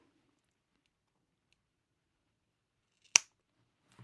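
Scissors give a single crisp snip trimming the excess raffia yarn ends on a handmade bag, close and isolated in near silence.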